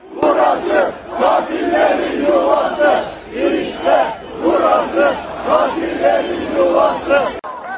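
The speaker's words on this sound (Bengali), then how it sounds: "রাতে যখন কিডন্যাপিং ঘটছিল তখন হাজার হাজার মানুষ রাস্তা ঘিরে বিক্ষোভ শুরু করে" A huge street crowd of thousands protests at night, chanting loudly and rhythmically in unison, with rising and falling waves of shouted slogans that continue throughout.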